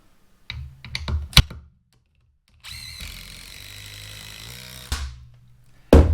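A DeWalt impact driver sinks a 5.5-inch, 5/16 GRK structural screw, giving a sustained rattling hammer that runs for a couple of seconds. Sharp knocks and clatter come before it, and a hard thump follows.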